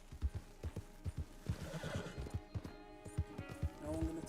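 A horse in the video game Red Dead Redemption 2 whinnies over rhythmic clip-clop hoofbeats that run steadily throughout, fairly close and moderately loud.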